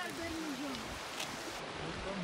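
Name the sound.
small creek flowing in Waimea Valley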